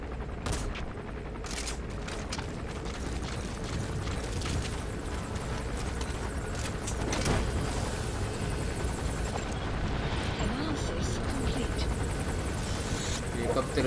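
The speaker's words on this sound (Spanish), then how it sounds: "Helicóptero está pasando, perfecto." In Metal Gear Solid V, a helicopter's rotor drone swells and rumbles steadily overhead for the whole stretch, with sharp bursts of distant gunfire cracking near the start and middle.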